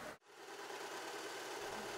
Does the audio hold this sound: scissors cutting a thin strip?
no